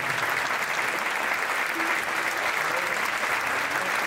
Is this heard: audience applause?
yes